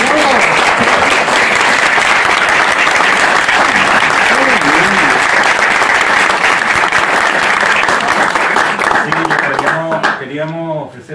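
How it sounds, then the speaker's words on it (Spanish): An audience applauding loudly and continuously after an interview at an exhibition, a thick wash of many hands clapping close by that thins out near the end as voices begin to emerge. "Bueno, un aplauso."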